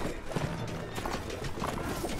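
Horse hooves clop in a quick, uneven rhythm in the Mount & Blade: Warband video game, fairly faint, with a few louder hoofbeats and a brief whinny-like tone near the start.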